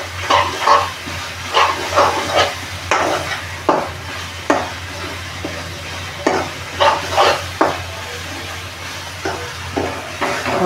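Masala sautéed in oil for an oyster masala dish, with intermittent scraping stirs of a spoon against the pan over a low, steady sizzle, each stroke loud and close.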